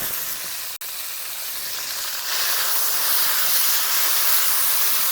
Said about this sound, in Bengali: তারপর ভালো করে একটু কষিয়ে নেব